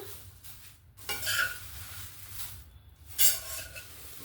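Fried dry fruits get stirred into a flattened rice (chire) snack, with soft scraping and rustling bursts of mixing against the pan, two clearer strokes separated by quiet pauses, faint and close.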